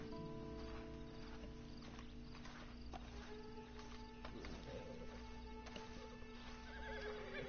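Horse in Red Dead Redemption 2, giving a clear neigh and whinny amid steady hoof clip-clops, heard at moderate distance over a low ambient bed.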